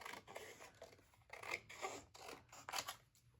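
Scissors cut through scrap paper in a series of about eight rhythmic crisp snips close to the ear, each a short rasping stroke with brief pauses between, fairly quiet and with no voices.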